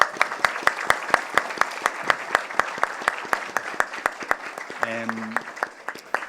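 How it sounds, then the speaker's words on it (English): An audience at a community panel discussion claps for a speaker, sharp individual claps over a softer spread of applause, steady and moderately near, with a brief voice rising near the end. "to give Susie a round of applause"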